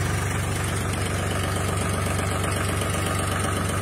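A Powertrac 439 tractor engine idles steadily and loudly nearby, with a constant low throbbing rumble and no talk.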